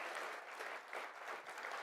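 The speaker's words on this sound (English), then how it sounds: "Let's give them a great round of applause." Steady applause from a crowd, a dense patter of clapping hands that holds at an even level throughout, with no voices.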